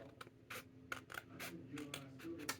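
Scissors snipping through wrapping paper for a handmade Christmas card, a series of short, soft, close cuts in a steady rhythm against a quiet room.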